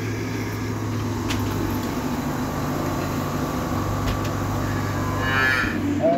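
Dairy cows stand in a barn on a Groningen dairy farm, where a steady low mechanical hum mixes with faint animal sounds and distant clatter, and no one speaks.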